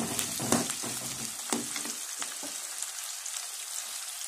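Ingredients being sautéed in a pan for a country chicken fry, a soft sizzle with a few stirring clatters early on that settles into a quieter, steady fry.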